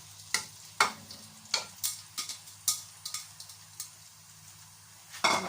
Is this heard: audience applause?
no